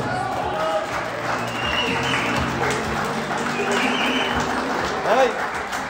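An audience applauds a singer on stage at a 25th-anniversary concert, a dense wash of clapping and crowd noise that holds steady for several seconds, with a brief louder swell near the end.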